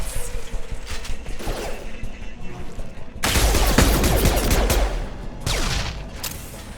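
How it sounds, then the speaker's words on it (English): Gunfire in Mass Effect 2 crackles in dense rapid bursts, loud and close. A heavy volley starts midway, then a further barrage follows, with faint voices and clattering mixed in. "Gun!"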